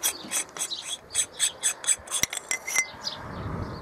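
Rear section of a Wildcat Evolution rifle moderator being unscrewed by hand, a close run of quick dry metallic rasping clicks from the threads, ending in a brief clink and a softer scrape.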